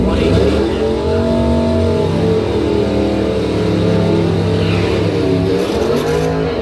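An El Camino drag racing a Suzuki Gixxer motorcycle down a bracket drag strip, steady loud engine roar with shifting harmonic pitch throughout, a continuous full-throttle run.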